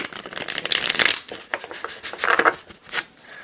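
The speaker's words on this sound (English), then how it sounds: "I'm going to do one more shuffle here before we go on." Tarot cards being shuffled close up, a rapid papery riffling and flapping that comes in bursts, with no talking.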